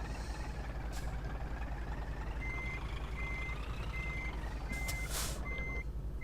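A truck in Scania Truck Driving Simulator gives five evenly spaced reversing beeps as it manoeuvres, steady and clear over a low idling engine rumble, with a short hiss of air brakes near the end.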